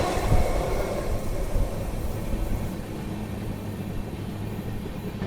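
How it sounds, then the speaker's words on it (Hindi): The Bihar Sampark Kranti Express, New Delhi to Darbhanga, rushes past at speed as a loud, broadband rumble and roar that swells at the start and then eases into a steady rolling drone as the carriages go by. "क्या ही भाग के आई है भाई अपनी बिहार संपर्क क्रांति एक्सप्रेस"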